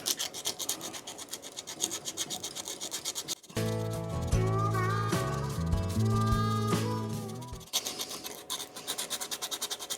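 Hand sanding with 80 grit sandpaper on a custom Harley paint repair makes rapid, steady scratchy strokes, broken midway by a few seconds of sustained tonal sound before the sanding resumes.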